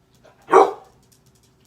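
A dog gives a single loud, close bark, wanting to go out and play, in an otherwise quiet indoor room with a faint steady hum.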